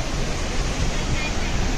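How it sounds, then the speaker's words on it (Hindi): The waterfall at Maneri Dam pours down in a dense, loud, steady rush of water that fills the whole short stretch without any break. "फेमस है यहाँ का, ये मनेरी डैम का ये वाटरफॉल।"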